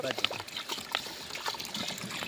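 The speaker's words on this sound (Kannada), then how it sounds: "ಈಗ ನೀರು ಡೈರೆಕ್ಟಾಗಿ ಬಿಡ್ತಾಯಿದ್ದೀವಿ" Water pours straight from a vessel into rice for Hyderabadi biryani during outdoor village cooking, a close, continuous splashing trickle with voices talking underneath.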